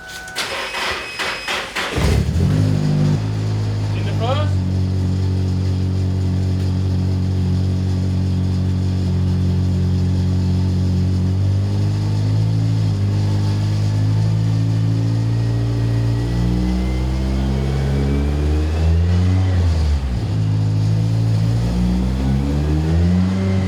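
A Nissan 180SX engine cranks and catches, then runs steadily loud as it revs and shifts up through the gears, the pitch dipping and rising with each change; a voice speaks briefly near the start.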